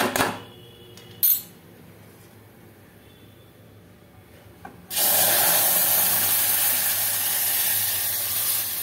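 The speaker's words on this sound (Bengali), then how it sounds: "এবার আমি দুধ দিয়ে দেবো।" Milk hits hot roasted semolina in a pan with ghee, bursting into a loud, steady sizzling hiss after a quiet stretch broken by a couple of brief clinks.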